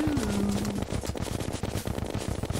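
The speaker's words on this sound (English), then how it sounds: "Just the sound of constant gunfire." Rapid bursts of gunfire rattle continuously in the video game Terraria, dense and loud, with a brief electronic tone at the start.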